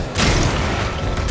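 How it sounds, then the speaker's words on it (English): A grenade goes off in the video game Resident Evil 6, a short, heavy boom with a rumbling low burst that starts abruptly and holds briefly with no talking. "Throwing grenade."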